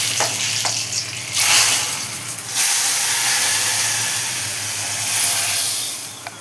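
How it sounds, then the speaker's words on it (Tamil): Sizzling tempering poured into wedding-style sambar with lentils, onion and asafoetida, making loud hissing bursts of steam and crackle that swell and fade in a few waves. "தாளித்து ஊற்ற போகிறேன்."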